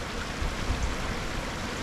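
Backyard pond waterfall pouring steadily into the pond, a continuous broadband rush of falling water at close range with no voices.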